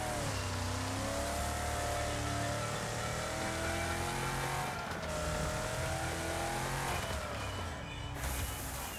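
Race car engine in the Wreckfest video game on Xbox Series X, loud and continuous, revving and shifting through rising and falling pitches with brief bursts of brake or tire noise; no talking.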